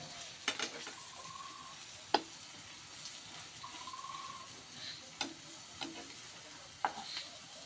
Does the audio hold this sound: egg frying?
yes